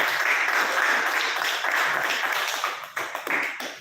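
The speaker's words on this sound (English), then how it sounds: "Please give a round of applause." An audience at a gavel club speech meeting claps steadily to welcome the next speaker, a close, even patter that thins toward the end.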